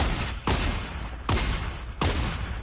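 Fortnite gunfire: four loud, punchy in-game shots spaced roughly evenly apart, each a sharp blast with a short decaying tail, with no talking over them.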